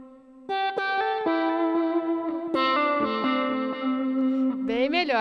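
An electric guitar, played through a hall reverb effect, rings out in sustained chords and single notes. Each attack lingers in a spacious wash, then a final note bends upward.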